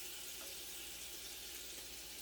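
Water running from a kitchen sink tap while a utensil is washed off gives a steady, soft hiss of flowing water, heard on its own without talking.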